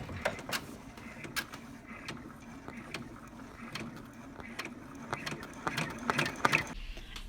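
A Brother PR655 embroidery machine stitching a beanie gives a steady, close mechanical whir and chatter with regular clicks from the needle and hoop, and the mechanism grows busier toward the end.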